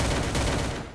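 MP5 gunfire in a mobile shooter game, a quick dense burst of rapid shots lasting about a second, loud and close, then cutting off.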